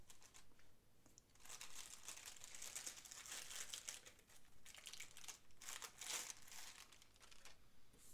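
Protective plastic foil on a USB DVD-RW drive crinkles and rustles in close, uneven bursts, growing busier in the middle, fairly quiet overall and without any talking.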